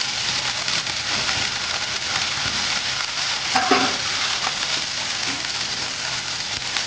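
Curry leaves, onions, green chillies and grated carrot frying in a pan, a steady close crackling sizzle throughout with a brief stir near the middle.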